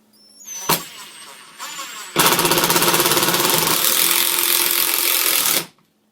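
A Hitachi WH10DL 10.8-volt cordless lithium impact driver, variable speed up to 2300 RPM, hammers a screw into wood: a brief spin-up, then a loud sustained rapid impacting rattle lasting about three and a half seconds before stopping abruptly.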